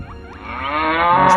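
Water buffaloes swimming in a village forest pond give a long, loud, rising moo, close by and sustained without any talk.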